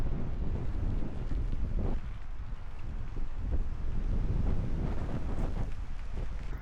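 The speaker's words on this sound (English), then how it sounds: "Oh, it's windy." Strong, steady wind buffeting the microphone, a continuous roaring rush with gusty swells and no voices.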